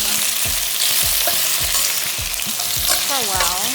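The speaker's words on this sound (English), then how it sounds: "this is time to toss in the ribs. Saute them" Pork ribs sauté in a pot of hot oil for sweet and sour ribs, with a loud, dense sizzle and a regular, rhythmic scraping of the stirring utensil against the pot.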